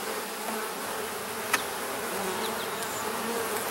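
Honeybees buzz around an open hive during an inspection, a dense, steady swarm hum filling the air with occasional individual bees passing close.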